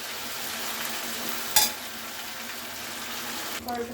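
Boiled cabbage fries in a pan while being stirred, a steady soft sizzle broken by a sharp clink of utensil on metal and a brief scraping stir near the end.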